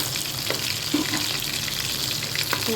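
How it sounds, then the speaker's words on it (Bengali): Fish kofta balls, made from foli fish, sizzle steadily in hot oil in a pan, with a continuous crackling fry, occasional soft pops and light stirring clinks, close and alone. "এখানে বাকিগুলো ভাজা হচ্ছে"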